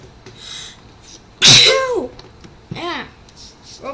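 A person lets out one loud, sharp sneeze, followed by a quieter second burst, with faint voices nearby.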